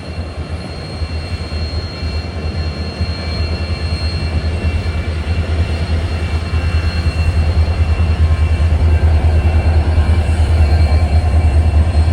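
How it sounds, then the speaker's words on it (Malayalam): The Humsafar Express rolls into platform 2 at Badarpur Junction with a steady low rumble and clattering wheels that grow slowly louder over a constant broadband roar, with no voices. "10:30 ട്രെയിൻ ഇപ്പോൾ ബദർപൂർ ജംഗ്ഷനിലേക്ക് എത്തുകയാണ്. 2-ാം നമ്പർ പ്ലാറ്റ്ഫോമിലേക്കാണ് ട്രെയിൻ വരുന്നത്."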